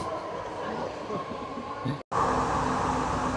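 A metro train rumbles into Civic Center Station, a steady loud roar with a tonal hum that briefly drops out and returns stronger, with faint voices in the background.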